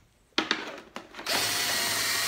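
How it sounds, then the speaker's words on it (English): A drill working through a wooden rake handle, starting with a few sharp bursts and knocks before settling into a loud, steady whine as the bit runs continuously near at hand. "now that I've drilled all the way through"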